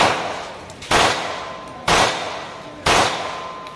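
Gunshots fired from firearms at an outdoor shooting range, three loud sharp reports spaced about a second apart, each with a ringing decay over steady background noise.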